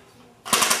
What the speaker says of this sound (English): That's Paul's machine gun